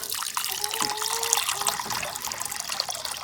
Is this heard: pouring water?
yes